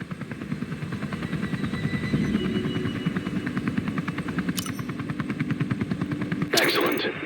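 A Comanche helicopter in a video game, its rotor chopping in a fast, steady rhythm over a constant engine whine, with a couple of brief bright clicks near the end.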